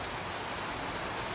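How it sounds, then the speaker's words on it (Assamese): Heavy rain pours down during a nighttime bicycle ride through a forest, a dense, even hiss of drops striking surfaces all around, steady and loud with no voices. "বেয়া বৰষুণ দি আছে অথনিৰ পৰা ৰখি আছোঁ ইয়াত"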